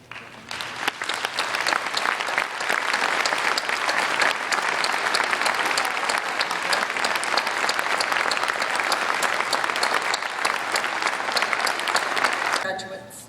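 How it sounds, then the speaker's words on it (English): A university commencement audience stands and applauds its faculty in a large ceremony hall, a loud sustained roar of clapping that rises quickly and holds steady for over ten seconds before cutting off abruptly. "Please stand in order for us to acknowledge your service with our applause"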